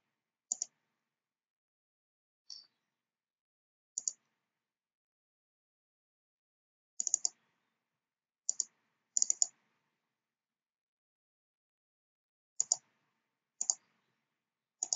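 Computer mouse clicking during a web builder software tutorial: short sharp clicks, mostly in quick double-click pairs, spaced irregularly across a quiet background with no talking.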